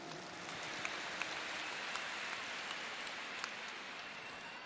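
Steady, faint applause from a large rally audience in a stadium: a dense, even wash of clapping heard from a distance, with occasional sharper claps poking through and no clear speech.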